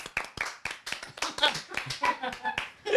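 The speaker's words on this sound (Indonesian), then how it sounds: "Tepuk tangan dong teman-teman." A small group claps hands in a student discussion gathering, a quick burst of sharp, uneven claps close by, lasting about three seconds, with scattered voices mixed in.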